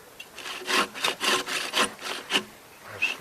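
Rhythmic back-and-forth sawing through wood, about eight rasping strokes in quick succession, close and fairly loud, with a short pause near the end.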